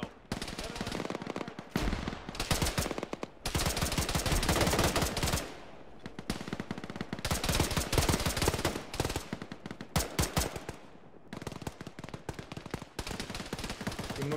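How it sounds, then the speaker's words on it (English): Heavy gunfire in the Arma military game with ShackTac players, with long dense bursts of automatic fire repeating across the whole stretch. Loud and close, with brief gaps between bursts and a few voices in the background. "Keep shooting."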